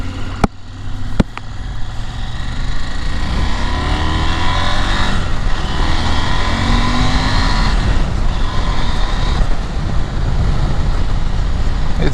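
A 2021 KTM 890 Adventure motorcycle being ridden, its engine droning steadily and loudly throughout with rising and falling pitch as it accelerates, mixed with wind rush and a couple of sharp clicks near the start.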